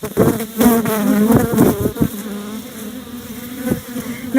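Honeybees buzz densely and close during a first inspection of a beehive, with a continuous droning hum and a few soft bumps and shifts mixed in.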